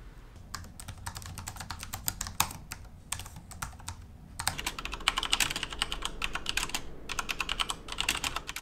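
Brown-switch keys on a 17-inch Walmart gaming laptop are typed on in quick, uneven bursts of soft, close tapping, with a short pause before a faster, louder run.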